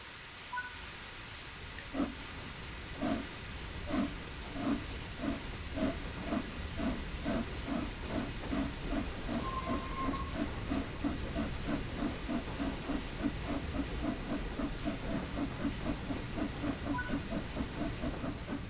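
Steam locomotive in the Train Sim World 6 game, with the regulator opened to apply power: a steady steam hiss with a rhythmic chuff that starts after a couple of seconds and repeats evenly and briskly throughout.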